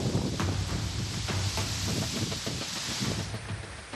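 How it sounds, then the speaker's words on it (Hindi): Strong cyclone winds with driving rain as Cyclone Nisarga reaches Ratnagiri on the Maharashtra coast, a steady loud roar of gusting air and wind buffeting on the microphone, continuous throughout with no voices. "महाराष्ट्र के रत्नागिरी में तेज हवाओं के साथ बरसता पानी तूफान के आने का संदेशा है"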